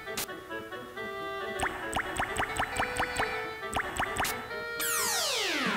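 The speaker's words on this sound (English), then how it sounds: "No! The water spilled!" Game sound effect of water spilling in the video game Beyond the Beyond: a run of quick, bright dripping blips in steady rhythm, ending with a loud sweeping whoosh.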